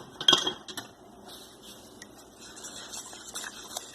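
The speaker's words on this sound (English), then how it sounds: "we're going to go ahead and whisk in 2 tablespoons of butter" A whisk clinks and scrapes against a pot while butter is stirred into French onion soup; a few sharp metallic taps stand out near the start, then settle into lighter, steady scraping, close and with no voices.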